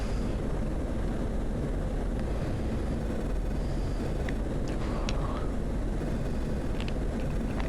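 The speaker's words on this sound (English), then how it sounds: "So we're gonna get airborne here, rotate, pull up our landing gear." A jet aircraft takes off in the DCS combat flight simulator, giving a steady, loud roaring rush of engine and wind noise that holds throughout with no break.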